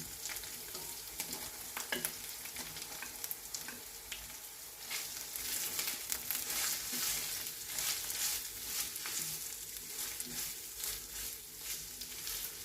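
Prawns with ginger frying in a pan of oil for a Telugu-style prawn curry, a steady close sizzle with occasional stirring scrapes and crackles, no voices over it.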